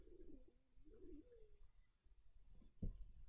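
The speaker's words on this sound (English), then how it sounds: "I just hear birds. There's lots of bird sounds." Birds call outside an open window, with dove-like cooing phrases in the first second and a half, then a quiet gap and a short sharp knock near the end; soft room ambience underneath.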